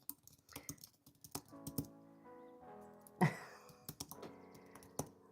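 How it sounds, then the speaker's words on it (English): Keys clatter on a computer keyboard in uneven bursts of clicks and taps, fairly close and moderately loud, with a sharper knock partway through and no talking. "Oops, my keyboard's upside down."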